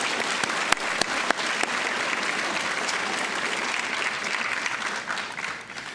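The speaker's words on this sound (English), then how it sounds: "Please give them a round of applause as well." Steady applause from an audience at a North Carolina National History Day awards ceremony, dense clapping filling the whole stretch with a few sharp individual claps standing out early on.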